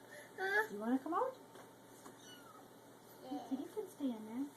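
A kitten meows several times in short, rising and falling cries, close and fairly soft, with quiet gaps between the calls.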